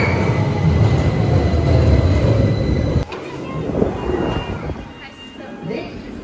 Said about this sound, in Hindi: ट्रेन भी आ गई है इस तरफ से।